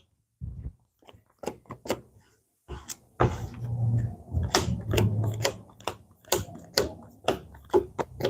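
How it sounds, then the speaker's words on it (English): A discard pile of cards shuffled during a tabletop board game, heard as a series of quick crisp riffling snaps and soft thuds in irregular bursts, close up, with no talking. "Let me shuffle my discard pile to draw 1 card."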